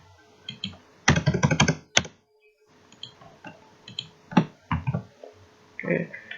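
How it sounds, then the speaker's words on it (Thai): Keys clack on a computer keyboard as a spreadsheet formula is typed, with close, irregular bursts of fast keystrokes broken by short pauses and a few single taps, and no talking. "ทีนี้ก็มาใส่สูตรนะคะ พิมพ์สูตรก่อนเลย"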